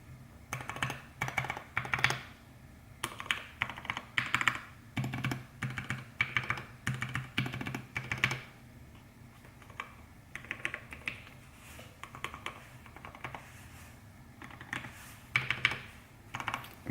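Steady typing on a custom mechanical keyboard with lubed Zealios 65g v2 switches, close and clear, with bursts of clacky keystrokes broken by brief pauses; no voices.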